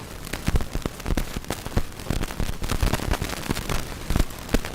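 Rain pelting outdoor speakers during Typhoon Kong-rey as it strikes Taiwan: a dense, continuous patter of sharp, irregular impacts and crackling hits, steady and fairly loud, with no voices.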